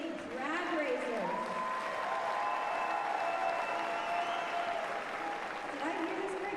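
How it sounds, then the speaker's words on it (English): A live event audience applauds two drag racers, giving a sustained, even wash of clapping throughout while a host's voice talks over it. "Hello, everybody give them a round of applause."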